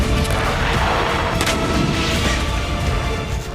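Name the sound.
explosions and artillery fire in war-torn Bakhmut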